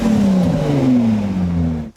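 A Ford GT's V6 engine revs hard in one sustained, loud pull whose pitch slides slowly downward, then cuts off abruptly near the end.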